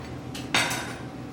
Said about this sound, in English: I have a serrated knife. I'll cut it in half.